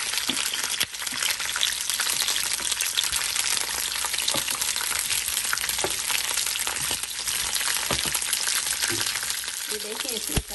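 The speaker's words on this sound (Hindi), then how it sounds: "हल्के हल्के से फ्राई होना शुरू हो गए हैं" Green chillies frying steadily in hot oil for Hyderabadi khatti mirch, a loud, continuous crackling sizzle with small pops and the occasional stir scraping through, no voices.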